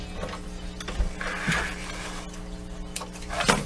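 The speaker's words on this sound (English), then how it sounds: "now sew all the way to the corner" A sewing machine stitches a beach pillowcase toward the corner, giving a continuous mechanical whir with faint rhythmic clicking and a few sharper knocks, moderately close and without talk.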